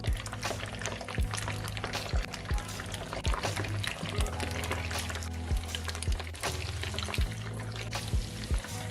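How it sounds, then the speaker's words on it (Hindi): Soya chaap pieces drop one by one into hot frying oil in a pan, giving a steady close sizzle broken by regular soft plops and bursts of crackling, with no talking. "तो इसमें हम एक एक करके चाप के पीसेस को पैन में डाल देंगे।"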